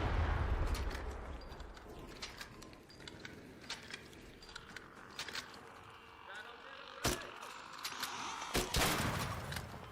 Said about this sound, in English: somebody else is shooting at him.